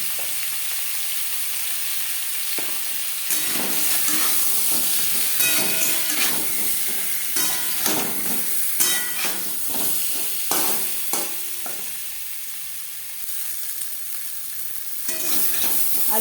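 Chicken and potatoes fry in a pan with a continuous loud hissing sizzle, overlaid by irregular scraping stir strokes that come and go, heard up close with no voices.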